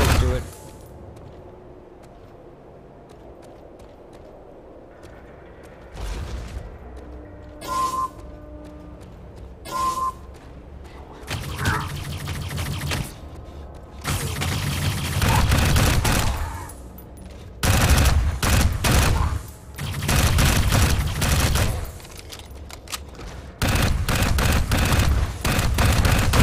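Bursts of gunfire from the Xbox 360 video game Dark Void, rapid automatic volleys in several loud stretches separated by quieter gaps, with some voice and game effects in the quieter opening.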